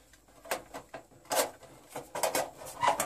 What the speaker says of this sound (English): see the little door? It does come off.